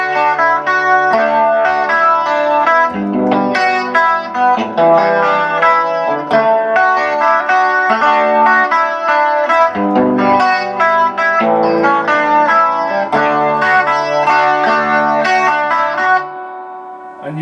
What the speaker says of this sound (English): And with the slow rotor on.